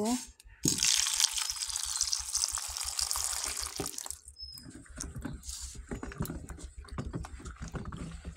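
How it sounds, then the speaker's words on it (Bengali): Lotkon fruit are rinsed under running tap water, a bright hissing stream that runs steadily for several seconds and then cuts off, leaving soft handling and splashing sounds close by. "এবার লকটগুলো ধুয়ে নেব।"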